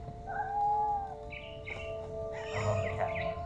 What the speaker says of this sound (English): I love the cat noises.